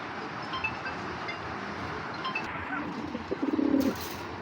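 Domestic giribaz pigeons, a large-sized pair of cock and hen, coo softly in a short low burst near the end, with faint chirps and light wind in the background.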